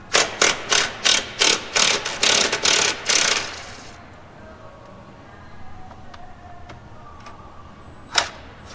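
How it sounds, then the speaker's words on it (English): A ratchet clicks rapidly in short bursts while loosening 10 mm bolts on a Hyundai Genesis Coupe during a cold air intake install, about a dozen loud pulses over three seconds, then quiet handling and a sharp clank. "So you gotta remove that bolt down there, which should be a 10 mil, and this one should also be a 10 mil."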